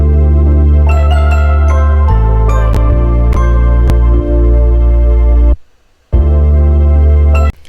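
A soul music sample plays back loud and alone, with sustained chords, bright bell-like accents and a bass line, then drops out briefly before resuming.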